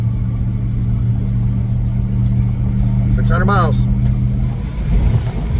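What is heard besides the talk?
car engine bucking, fuel starved, on highway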